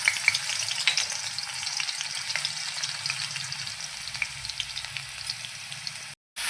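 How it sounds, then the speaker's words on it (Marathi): Crushed garlic frying in hot oil in a kadhai on a gas stove, a steady close sizzle and crackle with occasional spits, continuous and alone, cut by a brief silence near the end. "लसूण छान लाल रंगावरती परतून झाला"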